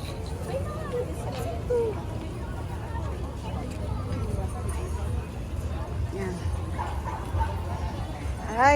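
A dog barks and yips a few times at a busy funfair in Baguio, moderately near, amid crowd babble and people talking.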